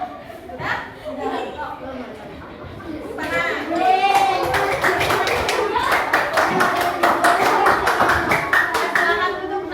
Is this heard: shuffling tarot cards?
no